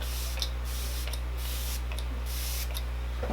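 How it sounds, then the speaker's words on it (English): Morphe Luminous Setting Spray misted from a pump bottle in four quick, evenly spaced bursts over a steady low hum. "I'm going to use a little bit of the Morphe Luminous Setting Spray"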